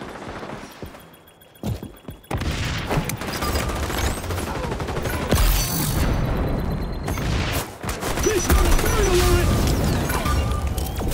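Gunfire from the video game XDefiant rattles in repeated bursts and fusillades, mixed with booms and mechanical clatter, loud and dense across the whole stretch.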